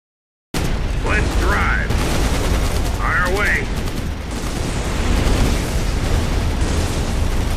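Grenade blast in the World War II strategy game Codename Panzers: Phase One during the Battle of the Bulge, amid dense battle noise of gunfire and explosions, with brief shouted voices near the start.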